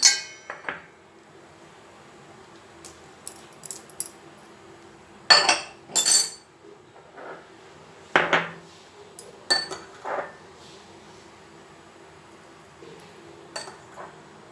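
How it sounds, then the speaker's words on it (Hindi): Onion, garlic and spices being mixed in a bowl for corn roti, scattered clinks and clatters of a utensil against the bowl with quiet gaps between, no talk. "अब इसमें हम इन सभी चीज़ों को मिलाएंगे।"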